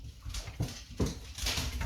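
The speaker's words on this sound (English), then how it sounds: "my dogs have just got the zoomies, so they're going nuts" Dogs indoors with the zoomies whimper and scramble about nearby, a few thumps and bursts of movement over a busy room background.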